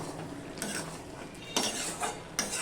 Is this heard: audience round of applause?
no